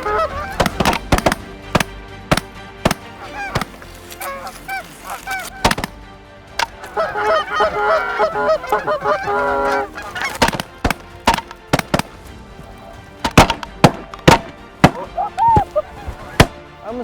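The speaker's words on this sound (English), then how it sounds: "I almost got hit by a goose." Geese honk repeatedly during a waterfowl hunt, loud overlapping calls rising and falling, punctuated by sharp, loud shotgun blasts scattered throughout.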